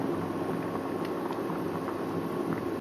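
Goan sardine (tarle) humann curry simmering in a pot, a steady low bubbling and soft popping that holds evenly throughout with no talk.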